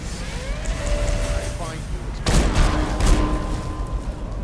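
Gunfire and heavy booms in the stealth action game Dishonored, a sudden loud burst of shots and thuds hitting over continuous background game noise and music, with a person talking throughout.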